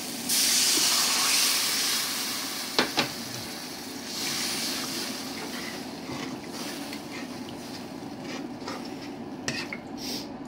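Water poured into a hot pan of veg Manchurian sauce cooked over high heat hisses and steams loudly at first, then settles into a steady sizzle with a couple of sharp metallic clinks from utensils against the pan.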